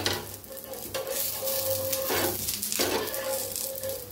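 A dosa roasts on a hot pan, giving a steady close sizzle with scraping from a spatula as it is turned to cook both sides, no voices over it.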